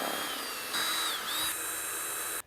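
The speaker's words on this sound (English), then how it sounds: "all I got to do now is drill the holes, put in a couple washers" A power drill bores holes for a radio mount in a Nissan Xterra, Frontier or Pathfinder, giving a steady close whine that dips briefly in pitch mid-run before cutting off abruptly.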